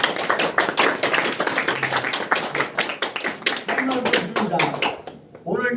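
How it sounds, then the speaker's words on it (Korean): Applause from a small audience at a year-end gathering, a few seconds of uneven, close hand claps that fade out near the end. "박수를 모시겠습니다."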